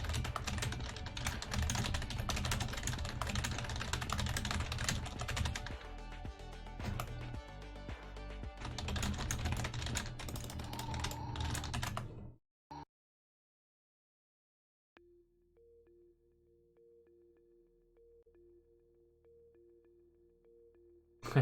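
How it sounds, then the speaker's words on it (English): Typing on a cheap, heavily used Logitech K120 computer keyboard, a dense, loud run of rapid key clatter for about twelve seconds, then stopping abruptly, followed by a quieter steady tone. "I use a crappy keyboard because I destroy them all the time, and I'm used to working on it, but it is the Logitech K120"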